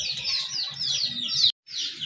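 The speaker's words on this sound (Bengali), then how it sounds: "আরেক জোড়া কবুতর" Local Bangladeshi pigeons kept at a bird and poultry market, with busy high chirping and twittering nearby that cuts out briefly before resuming, over faint low background noise.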